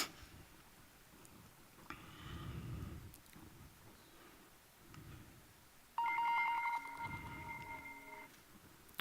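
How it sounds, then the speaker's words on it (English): A cell phone dials a help center on stage at an Amazon Web Services keynote. Quiet scattered beeps give way to a loud burst of steady keypad-style tones over low room rumble, with no speech. "So that's my cell phone"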